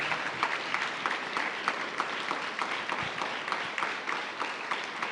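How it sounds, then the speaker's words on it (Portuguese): A church congregation gives a round of applause during a worship service, a dense and steady clapping crowd that fills the room with no voices standing out. "Dá uma salva de palmas a Ele"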